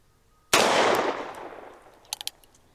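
A single heavy shot from a Ruger Super Redhawk Alaskan .454 Casull revolver cracks outdoors, loud and close, with a long rolling echo that fades, followed by a few faint metallic clicks.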